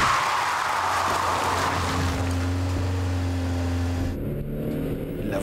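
Car approaching at 50 km/h on a road: a steady, droning engine and tire hum that grows and then fades, with no talk.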